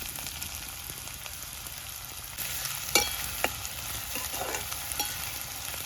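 Onion sizzles in a pan for chicken masala, with steady frying crackle, spoon scrapes and a couple of sharp stirring clinks up close and no voices.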